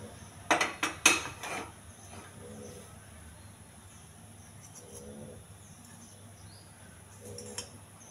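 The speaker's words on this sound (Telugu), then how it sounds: "స్టవ్ వెలిగించుకొని కుక్కర్ పెట్టుకోవాలండి" A pressure cooker is set down on a lit stove, a quick cluster of sharp metallic clanks and knocks up close, then quiet, with a soft bird cooing faintly in the background.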